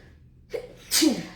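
A person sneezes once in a quiet room, a short intake of breath followed by a sharp, loud burst that cuts off quickly.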